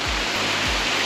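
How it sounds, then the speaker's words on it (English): Roadside waterfall, the Flume Cascade in Acadia National Park, a steady broadband rush of falling water, close and constant, with a few low thumps underneath. "Here's another one of those roadside waterfalls. This is the Flume Cascade"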